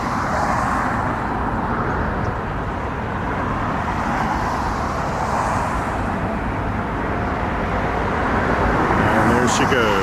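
A KLM Boeing 787 bound for Amsterdam takes off, a broad steady jet roar that holds loud and distant throughout, with someone speaking over it.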